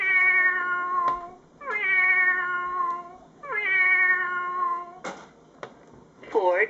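A VTech Touch and Learn StoryTime interactive toy storybook plays three electronic kitten meows one after another, loud and close, followed by a few brief clicks and a short chirpy tone at the end.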